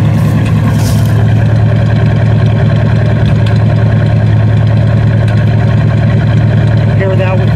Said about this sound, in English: There's the exhaust note. The right sounds a little funny.